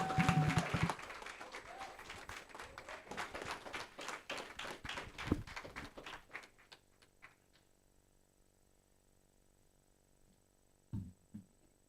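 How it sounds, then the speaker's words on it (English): Lecture audience clapping for a speaker, a fairly faint burst of applause that thins into scattered claps and stops, leaving a low electrical hum with a couple of soft knocks near the end. "And can y'all clap it up for Brother Anthony Murdoch?"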